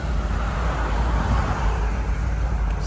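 A 1973 Ford Bronco drives along, its engine a steady low rumble under continuous road and tire noise, close and even throughout with no talking.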